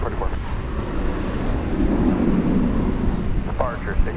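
An American Airlines jet on the runway at DFW Airport at night gives off a steady broadband roar of engine and wind noise that holds throughout, with faint radio chatter and a brief thump near the end.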